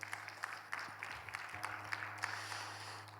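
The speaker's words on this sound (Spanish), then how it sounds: "Denle un fuerte aplauso al Señor" A church congregation applauding at a seminary Bible class, a steady, moderately loud patter of clapping running throughout with a low steady hum underneath.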